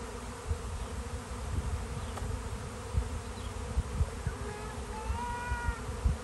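A honeybee swarm in a backyard fills the air with a continuous, dense buzzing drone. Individual bees pass close with louder swells now and then, and no voices are heard.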